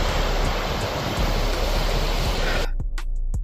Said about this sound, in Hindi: ग्लेशियर से पानी आ रहा है